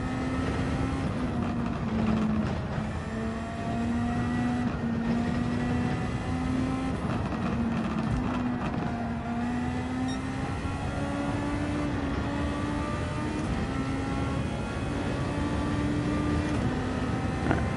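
Race car engine in Gran Turismo 7 during a daily race, a steady droning whine that rises and falls in pitch with gear changes, loud and continuous throughout.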